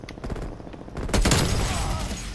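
Rapid gunfire crackles through a first-person shooter gun game match, bursts of shots layered thickly and loud, intensifying in the second half into a dense fusillade.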